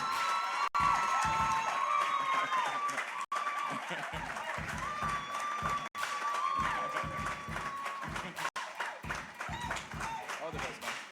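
A loud crowd cheering and screaming with scattered clapping, sustained for several seconds, with brief sharp cuts in the noise.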